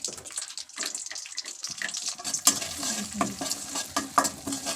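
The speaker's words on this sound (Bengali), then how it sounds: "এগুলো দেওয়ার পর মশলাগুলোকে ভালোভাবে কষিয়ে নিতে হবে।" Turmeric and chili spices for olive pickle sautéed and stirred in a pan, loud close sizzling with repeated scraping strokes of the spoon in an uneven rhythm.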